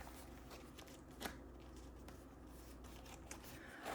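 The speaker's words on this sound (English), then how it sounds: "these pages make a real loud noise when I'm turning the pages" Quiet papery rustling and a few soft crinkles as pages of a card and memorabilia book are turned, with a sharper flap near the end.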